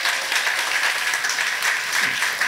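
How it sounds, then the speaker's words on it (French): Church congregation applauding during a French-language sermon, dense continuous clapping and cheering from a large group, steady and fairly loud throughout. "Est-ce que tu peux encore acclamer pour la gloire de Dieu?"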